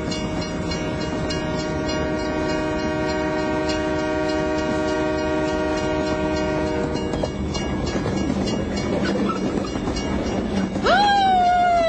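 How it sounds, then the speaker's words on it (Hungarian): A train rushes past with a sustained horn blast, then rumbling wheels and rail noise, ending in a rising squeal as it goes by. "Suhanó vonatot."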